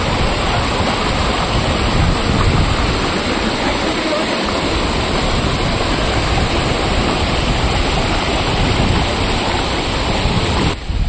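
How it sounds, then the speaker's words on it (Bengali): Mountain water tumbles down a series of stone steps below Panchalingeswar temple, a loud, unbroken rushing roar heard up close and filling the whole span with no voices. "এই পাহাড়ি জলের ধারা একদম পঞ্চলিঙ্গেশ্বর মন্দির থেকে বিভিন্ন ধাপে"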